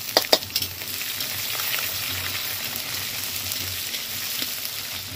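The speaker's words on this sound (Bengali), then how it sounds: "পেঁয়াজটা লাল করে ভেজে নিয়েছি" Onions frying in a pan over a wood fire while cooking yogurt chicken, giving a soft continuous sizzle with a few sharper crackles at the start, fairly quiet and without talk.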